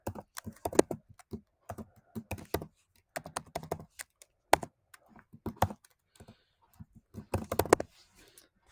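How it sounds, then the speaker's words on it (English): Typing numbers into a calculator or computer keyboard for a math problem: quick, close, crisp key clicks come in irregular bursts separated by short pauses, with no talking. "Let's type that in."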